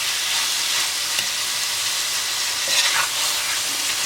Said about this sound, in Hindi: तमाम चीज़ों को अच्छे से यहाँ पर मिक्स करते हैं।